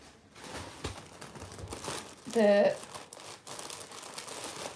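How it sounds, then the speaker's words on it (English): A brief burst of a crinkling plastic dust collector sheet being put down for press-on nail work, close and fairly loud, rising above quiet background noise and faint movement. "I'm going to grab a little dust collector sheet and I'm going to put it down"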